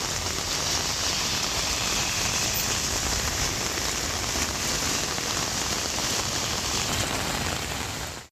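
Heavy summer rain pours down in Kanchipuram, Tamil Nadu, a dense, unbroken hiss of drops hitting surfaces at constant loudness with no voices.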